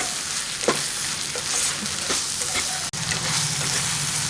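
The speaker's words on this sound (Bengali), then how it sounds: "এখনই সব উপকরণ ভালো করে মিশিয়ে নিচ্ছি আর এটাকে আমি প্রায় এখনও সাত থেকে আট মিনিট মতো রান্না করব" Banana flower paste being stirred and cooked in a pan, a steady close sizzle with soft scraping strokes of the spoon throughout.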